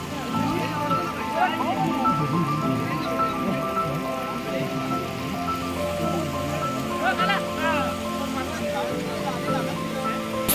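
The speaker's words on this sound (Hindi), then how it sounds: "बूंदाबांदी शुरू हो चुकी है" Light drizzle on a mountain pilgrimage trail, a soft continuous patter of raindrops with trickling water, heard under people talking nearby.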